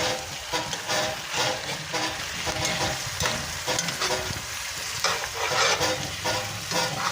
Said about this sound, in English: now that we got some of that fat seared into that pan there, I'm going to go ahead and lay them down